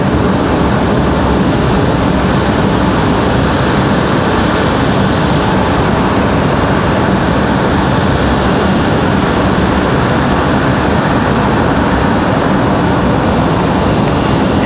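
A Boeing 767 jet arriving from Memphis at Raleigh Durham airport gives a loud, constant, close roar of its engines that holds steady throughout with no voices.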